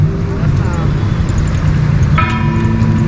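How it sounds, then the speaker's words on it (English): A church bell tolls for a funeral service at Santa Monica Church in the Philippines, a single ringing strike rising late over a constant low rumble of road traffic. "You see, you hear the sound of the church bell."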